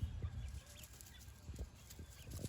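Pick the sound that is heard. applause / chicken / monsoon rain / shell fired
chicken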